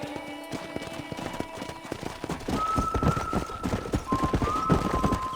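Hooves clip-clop rapidly as a horse is ridden in the Red Dead Redemption video game, a dense, loud galloping rhythm that builds partway through, with a thin whistle-like tone riding above it.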